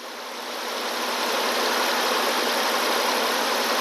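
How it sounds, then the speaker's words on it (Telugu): A 2023 Maruti Swift Dzire, a yellow-plate commercial car, idles with a smooth, steady engine drone that holds an even level throughout, with no voices. "ఇంజన్ కూడా చాలా స్మూత్గా ఉంది, చాలా నీట్గా ఉంది కూడా ఇంజన్."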